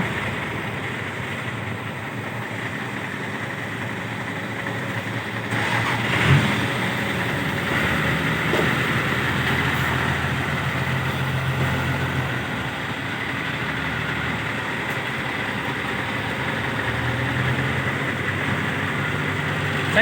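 A combine harvester engine runs steadily and continuously, a loud droning rumble with slight swells in intensity and no talk over it.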